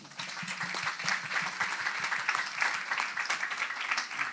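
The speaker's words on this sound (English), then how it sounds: "I would like to ask you for applause for Jean-Paul, please" Audience applause for Jean-Paul at the close of a BIOVEXO project event, a dense, even patter of many hands clapping, moderately distant and steady from start to finish.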